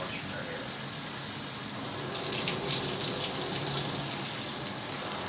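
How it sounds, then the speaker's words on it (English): Speakman Icon brass 8-jet shower head spraying a strong, heavy flow of water, a loud continuous hiss and splatter that swells slightly midway and stays steady throughout. "it feels like buckets of water just being dumped on it"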